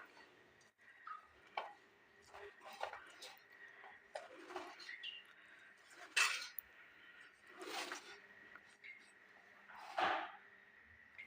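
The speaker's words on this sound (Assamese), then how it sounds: "এইদৰে পানীখিনি কম কমকৈ দি মই ভালদৰে মিলাই লৈছোঁ।" Flour and water mixed in a bowl for pitha, the water added a little at a time, giving scattered scraping, tapping and clinking of a utensil against the bowl in irregular bursts, fairly quiet and close.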